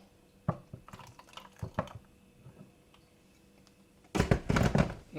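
A dash of hot water is poured into coffee made with espresso and hot milk, giving soft drips and small splashes, followed by a louder burst of liquid trickling at the end.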